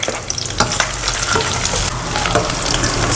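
Ginger sizzles and is stirred in a hot pan, a steady close frying crackle with occasional scraping stir strokes.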